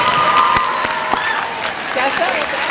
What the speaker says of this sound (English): Please join me in giving a round of applause to John Monet and Tessa for their brilliant work.